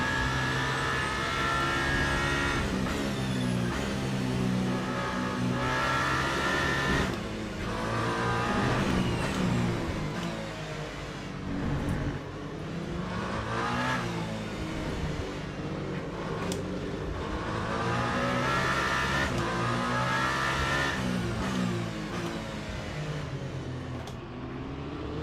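Hypercar engine revving hard in a Le Mans racing simulator, loud and continuous, rising and falling through gear changes with a steady roar.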